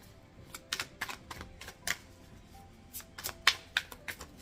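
Tarot cards being shuffled by hand, a quiet run of crisp riffling bursts and soft taps, irregular and close, with pauses between the bursts.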